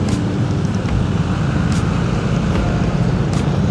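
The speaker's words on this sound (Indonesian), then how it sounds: "Gila, macet parah sih di sini." Road noise in a Saturday-morning traffic jam at Parung market, heard from a motorcycle, as a loud, steady rumble of idling and creeping vehicles with wind-like roar and no clear individual events.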